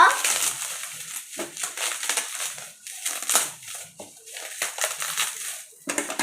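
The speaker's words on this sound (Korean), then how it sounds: "자세히 보면 이 뽁뽁이 감싸져 있는데요. 열어볼게요." Bubble wrap packaging is pulled off a Pokémon card box up close, giving continuous crinkling and crackling in irregular bursts, with brief pauses between them.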